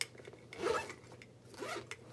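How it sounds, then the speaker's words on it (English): A zipper is pulled in two short rasping strokes, close by, with quiet pauses around them. "let me zip this up a little bit"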